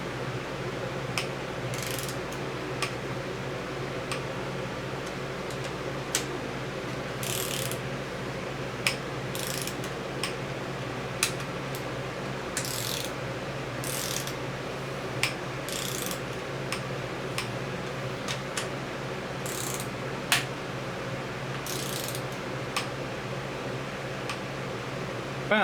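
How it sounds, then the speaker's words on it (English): A ratchet wrench torques down new cylinder head bolts on a Cummins 4BT diesel engine, giving faint, sparse clicks and pawl rattles over a steady background hum. "Let's torque these things down."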